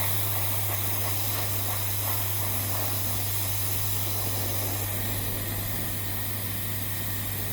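A hair dryer runs without pause, blowing a loud, steady rush of air with a low motor hum while drying a salon client's hair.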